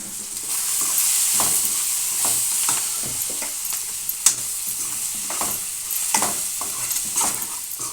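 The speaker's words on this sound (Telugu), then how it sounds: "బాగా ఇలా మిక్స్ చేయాలండి." An egg mixture is stirred in a frying pan for egg curry, with steady sizzling and repeated scraping strokes of a utensil against the pan, close and continuous.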